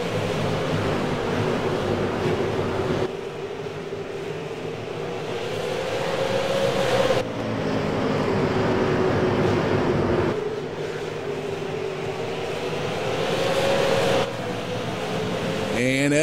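Stock cars racing at Oxford Plains Speedway in a racing sim video game: a steady engine drone that swells and falls as the pack laps, with a commentator talking over it.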